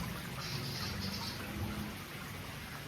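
Water trickles and splashes from a pond spray bar onto the surface in a soft, continuous patter. It is quiet and steady and heard alone, easing slightly toward the end.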